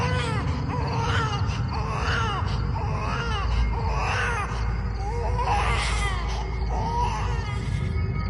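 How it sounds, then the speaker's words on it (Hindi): A slow, painful, child-like crying sound effect in a Hindi horror story, a series of drawn-out wavering wails repeating about every second over a low rumbling background. "एक बच्ची जैसी रोने की आवाज"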